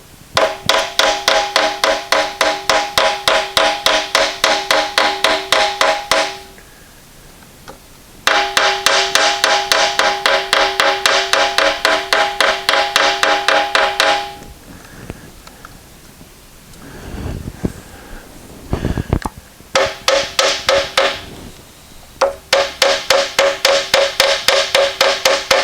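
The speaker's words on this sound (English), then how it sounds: "hammer around your bosses" A hammer taps rapidly on poster board laid over motor mount bosses in an engine swap, striking in long, fast, even runs broken by short pauses and a few scuffs.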